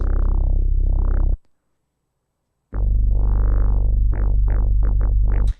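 An FM8 gurgle bass patch built with serial FM and no effects plays a loud synth bass phrase: a sustained swelling note, a pause of silence, then a long held tone followed by a quick run of short rhythmic plucks.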